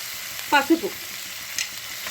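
Onions and curry leaves frying in hot oil for a lentil curry, a soft steady sizzle broken by a couple of brief stirring scrapes and clinks.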